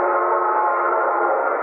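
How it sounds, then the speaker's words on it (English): A steady, sustained train whistle blows without a break, loud and unwavering, its tone full and even from start to finish. "The train blew for a water stop 3 miles ahead."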